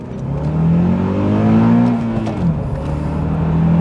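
A Honda Accord pulls hard in first gear up a motorway on-ramp, its engine note climbing steadily and loudly, then dipping briefly before rising again.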